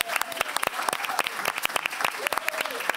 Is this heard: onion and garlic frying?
no